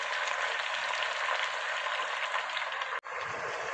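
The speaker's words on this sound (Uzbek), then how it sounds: "yana bir aylantirib qovurib olamiz" Eggplant, garlic and tomato fry with chicken and potatoes in a pan, a steady dense sizzle holding close and loud throughout, broken by one brief dropout near the end.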